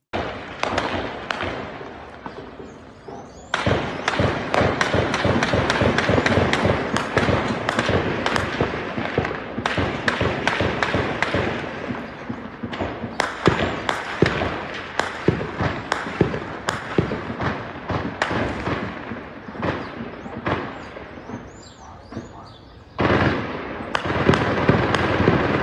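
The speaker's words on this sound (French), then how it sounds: "Ça n'arrête pas de tirer, c'est impressionnant." Continuous gunfire during a police raid in a Rio de Janeiro favela: dense, rapid bursts of sharp cracks and bangs go on almost without pause, loud and echoing, with no clear talking.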